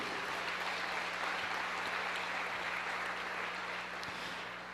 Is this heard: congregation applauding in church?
yes